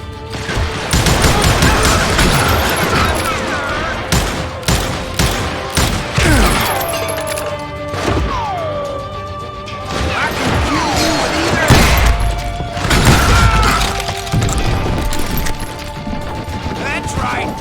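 Rapid Old West gunfire from Call of Juarez: Gunslinger, a dense, loud barrage of overlapping shots with ricochet whines and crashes that runs almost without pause, with a voice briefly heard amid the shooting.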